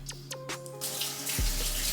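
A kitchen tap gushes cold water into a sink to rinse partly frozen chicken pieces, starting with a few clinks and splashes, then a loud, steady close-up stream.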